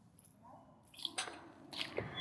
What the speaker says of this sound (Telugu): కొన్ని నీళ్ళు వేసేస్తున్నా.